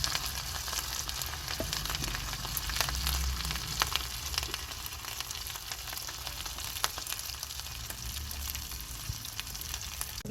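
Seekh kebabs frying over the flame in a village kitchen give a continuous close, bright sizzle with crackling pops, steady throughout and without any talk.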